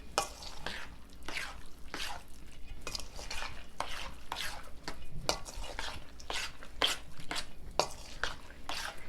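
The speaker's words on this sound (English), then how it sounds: "you're going to mix everything until everything is well incorporated" Charoset being stirred in a bowl until well combined, a steady run of soft scraping and clinking strokes from a utensil, close and fairly quiet, with no talking.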